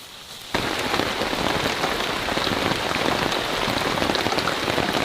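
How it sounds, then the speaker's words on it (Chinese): Rain on a desert island begins abruptly after a brief quiet moment, then pours down steadily as a dense, even hiss of drops striking surfaces nearby, loud and continuous to the end with no voices. "我真的服了这个烂鬼天气了，说下雨就下雨"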